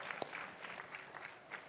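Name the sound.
audience applause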